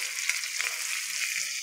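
Chopped green chilli and ginger sizzling with garlic in hot oil for a pumpkin and potato sabzi, a bright, even, close hiss that runs without a break, with no voices.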